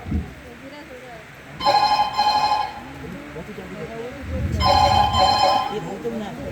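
A telephone bell rings in two bursts of about a second each during a staged Marathi family drama, bright and fairly close, with voices murmuring underneath.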